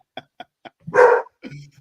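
A dog gives three short barks, then a longer louder bark-like yelp and a final shorter one, near and clear, with a voice heard briefly.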